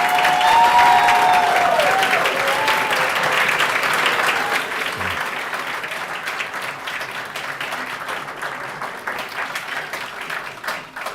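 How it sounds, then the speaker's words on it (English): A crowd at the Penn Dental Medicine Class of 2024 White Coat Ceremony applauds, strongest at first with a brief whistle, then easing into a steady, softer patter of clapping. "a round of applause for past class of"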